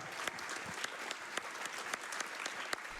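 An audience applauds continuously at a speed-gaming event, a dense, steady wash of clapping at moderate distance with a few sharper individual claps standing out.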